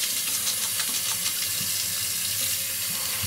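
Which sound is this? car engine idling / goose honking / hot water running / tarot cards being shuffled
hot water running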